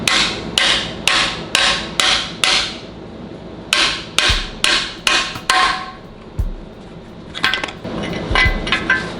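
Hammer blows tap a distributor shaft bushing into a 440 Mopar engine block, sharp metallic strikes in quick steady runs with short pauses between bursts, close and loud, with no talking.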